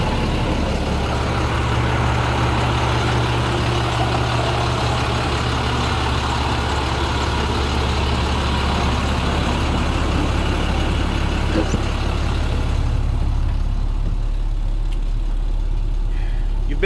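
School bus 147 runs with a loud, steady low engine rumble close by, idling continuously and then thinning slightly toward the end as it pulls away.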